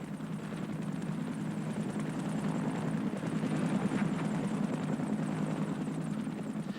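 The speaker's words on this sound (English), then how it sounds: "a United States helicopter patrols the border of East Germany" A United States military helicopter patrols the East German border, its rotor thudding in a loud, steady, continuous drone that stays close throughout with no talking.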